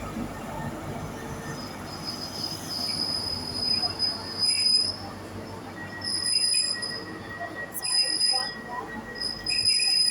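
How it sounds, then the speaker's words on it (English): A ScotRail HST with power car 43145 pulls into a station on the Edinburgh Waverley to Aberdeen service, its wheels giving high, sustained squeals that rise and layer over a low rolling rumble, heard close on the platform. "Arriving in now is the 11:35 ScotRail service from Edinburgh Waverley to Aberdeen, works by HST 43145 is at the front."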